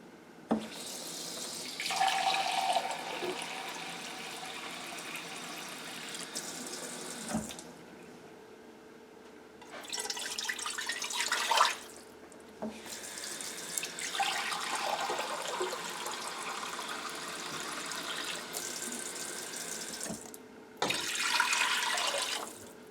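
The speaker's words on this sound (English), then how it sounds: "I got a 500 ml measuring cup, so I'll just fill this up twice and add that in there" Tap water running into a 500 ml measuring cup for chicken soup, filled twice: two long steady gushes of running water, each rising in pitch as the cup fills, separated by a quieter pause, with no talking.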